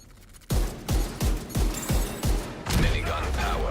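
Rapid weapon fire in The Division 2, about six heavy shots in a regular rhythm followed by a burst of crashing impacts, loud and close with a voice briefly under it.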